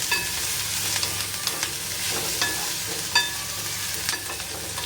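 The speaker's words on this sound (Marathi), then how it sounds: "छान असं हलवून घेऊया" A spoon scrapes and stirs onions frying in a pan for a traditional dill-fenugreek mixed vegetable dish, steady sizzling crackle punctuated by irregular metallic scrapes and taps, close and alone.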